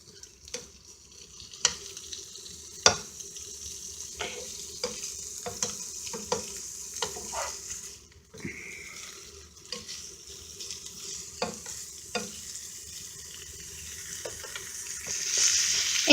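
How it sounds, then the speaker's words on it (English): Chunks of hot dog sizzle as they fry in hot oil, a soft, steady crackle broken by sharp clicks and scrapes as the pieces are stirred in the pan. "I throw in the hot dogs. And you can hear them start sizzling."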